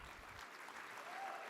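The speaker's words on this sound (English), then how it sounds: "let's give another round of applause to the wonderful Victory staff for all their hard work" Brief, faint applause from a brunch audience at an LGBTQ Victory Fund event, a soft, even patter of clapping heard at a distance.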